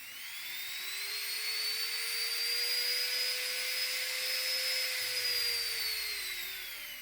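A high-pitched Kemmer electric nail drill whines steadily at high speed, its tone rising and then easing off, close and alone.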